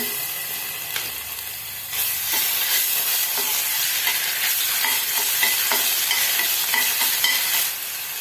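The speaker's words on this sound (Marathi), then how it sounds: "तेल टाकून घेऊया तेल आपण दोन टेबलस्पून टाकलेलं आहे त्यापेक्षा थोडंसं जास्त टाकू शकता आलं लसणाची पेस्ट टाकूया" Loud, steady sizzling of ginger garlic paste hitting hot oil, rising sharply after a couple of seconds and crackling continuously with occasional stirring clicks.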